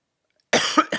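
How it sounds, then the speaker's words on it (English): A single sharp, loud cough from a lingering illness breaks the silence, followed by a brief second cough. "I still have this fucking cough and it just doesn't want to go away"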